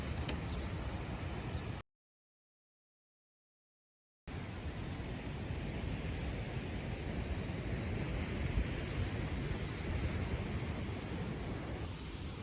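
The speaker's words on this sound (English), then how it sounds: "Just watching the beautiful waves." Ocean waves below a coastal cliff make a steady, broad wash of surf noise, distant and even, with no distinct individual breakers and a brief gap of silence early on.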